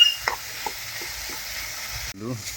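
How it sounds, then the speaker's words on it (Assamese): Tomato and potato fry with spices in a pan, a soft steady sizzle broken by a few light stirring scrapes, with a voice speaking briefly at the end. "ধুনীয়াকৈ ভাজি আছোঁ, বিলাহী আলু মছলা পাতি"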